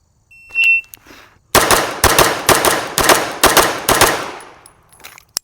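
Pistol shots in a shooting drill, six sharp loud reports in a quick, fairly even string, preceded by a brief electronic beep from a shot timer and followed by a fading echo.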